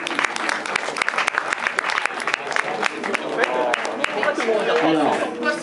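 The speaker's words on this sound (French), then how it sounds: "Donc, on peut l'applaudir." An audience at an awards ceremony breaks into sustained applause, a dense wash of clapping with crowd chatter and a voice emerging near the end.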